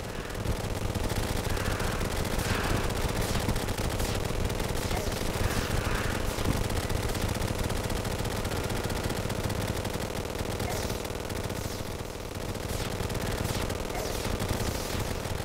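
Candy Corn Rifle gunfire in Terraria, a dense, unbroken stream of rapid shots running the whole time at a steady, loud level with no pauses and no talking.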